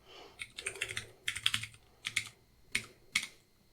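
Quick bursts of typing on a computer keyboard, close and fairly quiet, with irregular clusters of key clicks separated by short pauses and no talking.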